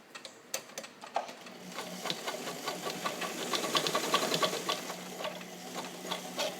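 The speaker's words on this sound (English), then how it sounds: "let's do a long stitch, long length stitch. It'll be easier for you guys to see on the denim here." A restored vintage Universal zigzag sewing machine, made in Japan, runs a long straight stitch through denim, its strong motor giving a steady close mechanical whir with rapid ticking needle strokes that rise and fall in speed.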